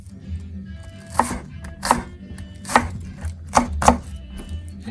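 An onion being diced with a sharp knife on a chopping board for a quick curry, several crisp, distinct knife strikes in an uneven rhythm, close and clear with no talking.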